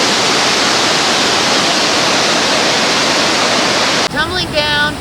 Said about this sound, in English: Curtis and York Creeks flow over exposed granite to form two extraordinary waterfalls